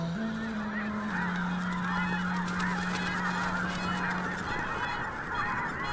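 A huge flock of red-breasted geese taking off together produces a dense, continuous wall of honking and wingbeats, loud and steady throughout with no speech.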